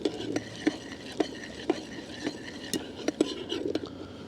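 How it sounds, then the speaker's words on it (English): Popcorn kernels stirred in a camp cooking pot, with a scraping, rattling rhythm of regular metallic taps and clinks, close and moderately loud, a faint murmur in the background. "Let's give it a stir."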